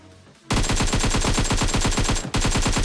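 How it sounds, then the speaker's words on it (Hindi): Rapid automatic gunfire in PUBG Mobile during a solo-versus-squad match: a loud, continuous burst of evenly spaced shots starting after a short quiet lead-in, with a brief break before firing resumes. "जैसे मैंने गोलियां चलाई"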